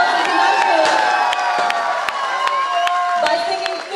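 Applause and cheering from a large crowd at a live event featuring a performance of 51 Marathi lavani songs, loud and steady throughout with sharp claps and whoops, with voices mixed into the roar.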